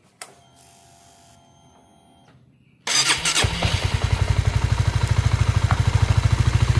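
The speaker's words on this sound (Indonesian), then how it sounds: "Motor sudah hidup." A rebuilt Honda CBR motorcycle engine, assembled after oil starvation damage and run without its radiator fitted, cranks and fires up, then settles into a loud, steady, rapid idle that runs on alone after a quieter stretch of background machine noise.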